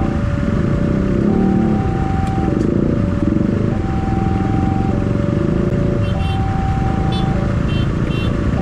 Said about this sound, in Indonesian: Udah ada beberapa motor yang nyebrang.